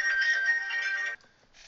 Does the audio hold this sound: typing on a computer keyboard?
no